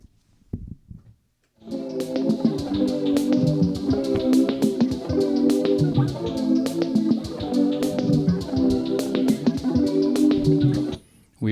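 Electric guitar chords strummed in a steady rhythm, smeared by echoing delay repeats, loud and continuous after a brief silence.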